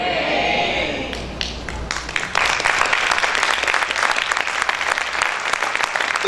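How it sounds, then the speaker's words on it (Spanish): Church congregation applauding at a spiritual-government service, dense sustained clapping that swells after a quieter start and stays loud throughout, with faint voices underneath. "Ese aplauso para el Señor,"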